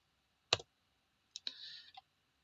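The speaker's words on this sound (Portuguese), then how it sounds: "Vamos dar dois cliques aqui para baixo" A soft computer mouse click, then a quick double click a moment later, faint and close on a quiet background with no speech.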